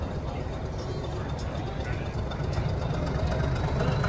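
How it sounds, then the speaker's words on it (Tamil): Diesel-engine toy train on the Ooty to Coonoor mountain line, a low, steady engine drone and rolling rumble heard from on board, with voices murmuring faintly underneath. "டீசல் இன்ஜின் ட்ரெயின் தான்."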